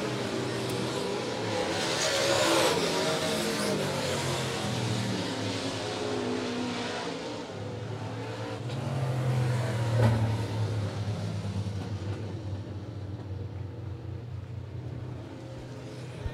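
Dirt-track race cars run a heat race at Monett Motor Speedway, engines droning and swelling as the cars circle the oval, a continuous mid-pitched roar rising and fading with distance, and no commentary heard over it.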